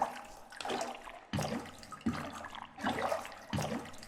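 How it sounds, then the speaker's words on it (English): Sloshing, gurgling water inside a fish's body in the video game How Fish Is Made, coming in several close, repeated surges with short gaps between them and no voices. "Just, lots of water down here."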